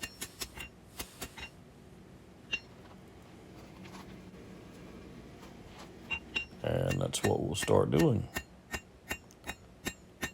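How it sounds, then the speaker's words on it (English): Hand hammer blows on a hot steel knife blade at an anvil while forging a large skinner, drawing steel down from the spine: sharp single strikes spaced irregularly, then a quicker run of ringing blows near the end, with someone talking briefly. "I'm using the hammer to pull the steel down from the spine"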